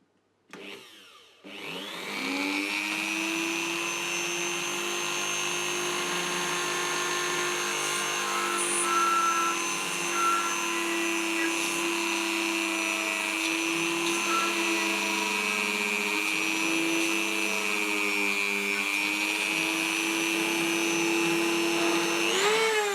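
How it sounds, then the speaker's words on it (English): A Dremel rotary tool fitted with a 1mm bit spins up sharply and then runs at a steady high-pitched whine, drilling pilot holes in the rivets of a Dinky Toy 252 refuse truck, close and continuous, with slight pitch dips under load. "I have a 1mm drill fitted in my Dremel, and I need to drill a pilot hole in the flats of each rivet."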